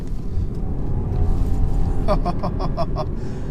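A BMW 320i with the B48 petrol engine drives at speed with a steady, close engine rumble, and a burst of rapid high clicks or ticks joins in near the end.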